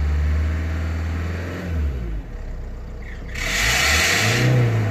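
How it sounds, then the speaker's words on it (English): A Ford Mondeo engine with a squealing fault near the timing belt idles at close range, then is revved hard around the midpoint into a loud, sustained higher-pitched roar, with no talking. "Right. I rev it up."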